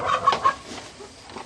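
Golden and blue lace Wyandotte hens give short soft clucks close by in a backyard flock, with a few brief bursts and no talk.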